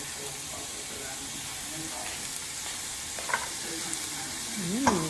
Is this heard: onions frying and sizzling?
yes